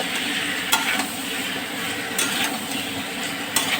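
Potatoes, carrots, beans and tomatoes are stirred into a chicken stew pot, giving a steady close scraping and sizzling with a few sharp spoon knocks against the pot.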